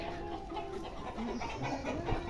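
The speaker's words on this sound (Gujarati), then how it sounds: "મોર ને કુકડાઓ ભાઈ," Roosters and peacocks call in a farmyard enclosure, with soft clucking and short fowl calls that stay faint and somewhat distant over quiet background noise.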